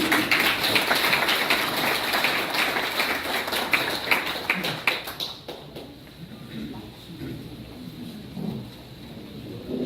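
An audience at a book launch celebration in Korea applauds to welcome a former high school principal giving a congratulatory speech; loud, dense clapping fills the first half and then cuts off, leaving quiet room noise and faint voices.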